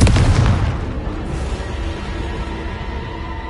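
A loud explosive blast from the Confringo spell in Hogwarts Legacy opens with a heavy boom, then decays into a long rumbling tail, with no voices.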